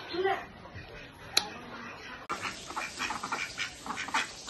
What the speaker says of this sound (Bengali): দেখো মামার বাড়িতে কয়েকটা হাঁস মুরগও আছে।